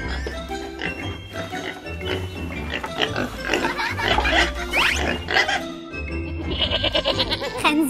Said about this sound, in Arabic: خنزير عم يركض.